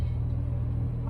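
2021 Porsche 911 Carrera S with PDK gearbox in a sharper mode, a steady low engine drone heard from inside the car over a brief moment.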